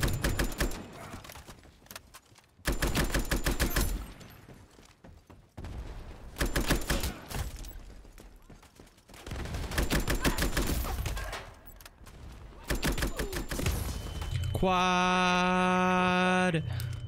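Gunfire in the online shooter Ironsight comes in repeated bursts of rapid automatic shots separated by short pauses, loud and close, with a ringing electronic game tone near the end.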